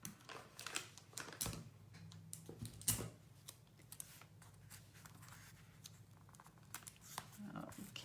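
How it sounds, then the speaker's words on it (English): A small piece of Scotch tape is pulled off and pressed onto the back of a handmade masculine birthday and congratulations card, giving close, soft crinkly crackles with a sharper tearing snap or two under a quiet murmur of talk. "I'm going to tape this to the back with just a little piece of Scotch tape here."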